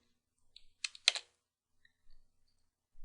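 A few sharp, quiet computer keyboard clicks as a Linux command is typed, with silence between the keystrokes.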